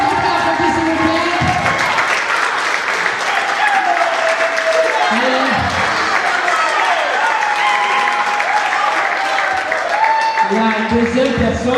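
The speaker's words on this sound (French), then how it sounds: "Est-ce qu'on peut l'applaudir, s'il vous plaît?" A theatre audience applauds steadily for the president of an association called to the stage, dense clapping filling the room from start to finish, with voices and calls mixed into the crowd noise.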